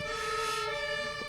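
An emergency vehicle siren sounds as a steady stack of piercing tones, held loud and continuous for the whole moment with no talk over it.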